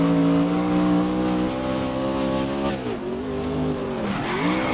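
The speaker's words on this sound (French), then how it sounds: "C'est de se faire un beau dérapage" A racing truck in the video game Grid drifts with a sustained loud engine drone and tire squeal, and the engine pitch dips and swoops as it slides.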